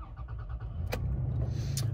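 A 2021 Toyota Tacoma SR5 pickup switched on: low steady hum with two brief bright chime-like blips or clicks as the electrics come alive, no engine crank evident.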